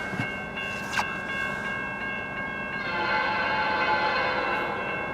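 CN A492 eastbound freight train passing in Port Huron, Michigan: a steady rumble of rolling railcars with tonal horn-like lines, moderately distant and growing slightly louder toward the end, no talk.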